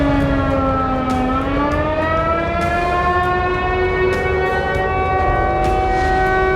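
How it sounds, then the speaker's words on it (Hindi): A civil defense air raid siren wails over Ukraine during Russian missile strikes, a loud, steady rising and sustained tone with harmonics that holds throughout, alone with no speech. "पूरी रात यूक्रेन के अलग अलग प्रांतों में रेड अलर्ट का सायरन"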